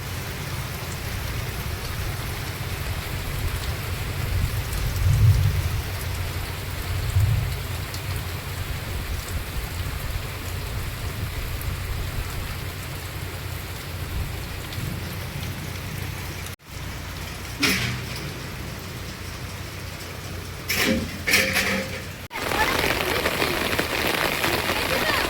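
Heavy rain pours down in a continuous dense hiss of drops striking surfaces, with a few sharper clattering bursts near the end.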